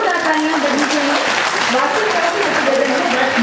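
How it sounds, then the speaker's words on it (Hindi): At a foundation-day ceremony in a hotel hall, a crowd claps in loud, sustained applause throughout, with a speaker's voice and crowd murmur carrying over it. "जोरदार तालियां बजनी चाहिए"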